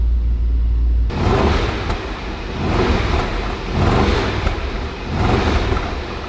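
A Range Rover SVR V8 engine, the car being rebuilt after damage, starts up and then revs in repeated swells, a loud close rumble rising and falling about once a second with no talk over it.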